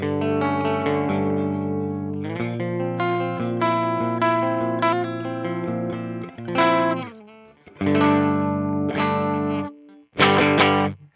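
Electric guitar strummed hard through a JOYO Clean Glass pedal with the bridge pickup coil split, the tone breaking up into light overdrive; busy chord strums, then a few loud separated stabs with short gaps between them.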